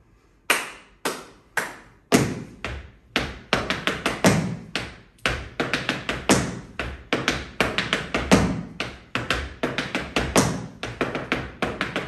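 Tap shoes strike a hard floor in a time step pattern, crisp clicks and heel thumps grouped into repeating rhythmic phrases with brief rests, close and solo with no talk.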